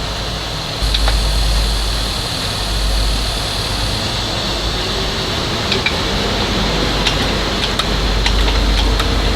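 A 1971 Johnson 20 HP outboard motor runs steadily at full throttle, a loud continuous drone with no pauses and a few faint clicks on top.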